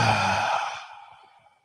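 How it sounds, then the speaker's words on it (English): A single long audible exhale during yoga breathing, a breathy sigh close to the ear that starts strong and fades away over about a second and a half, with no talk. "Take a deep inhale now that we're all engaged and fill up into the belly. And then audibly exhale."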